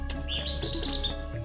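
A single bird gives a short, clear chirping call in a forest above a ravine, faint and somewhat distant, over a low steady background hum.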